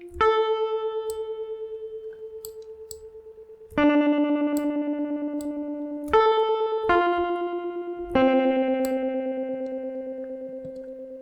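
Sustained synth notes pulse with a steady, rapid tremolo wobble from Ableton Live's Tremulant device, a new note starting every few seconds, the effect fully wet throughout.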